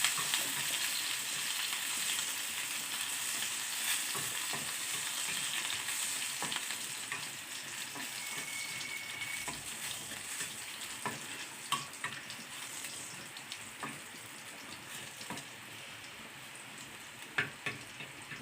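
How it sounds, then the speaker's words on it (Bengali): Garlic sizzles and crackles steadily in hot oil alongside dried red chillies, a continuous close frying hiss with occasional small pops and stirring scrapes, no voices. "রসুনটা একটু লাল লাল করে ভাজবো।"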